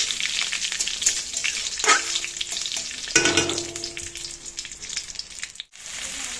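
Cumin seeds, bay leaves and dried red chillies frying in hot oil in a pan, a steady close crackling sizzle with a few stirring scrapes and one brief drop-out near the end.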